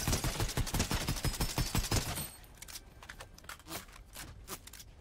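Rapid bursts of Bender's ray gun fire in the Fortnite video game, a fast repeating volley of loud close shots that stops abruptly, followed by quieter scattered distant shooting.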